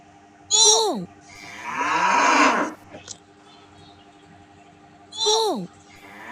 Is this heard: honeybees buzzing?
no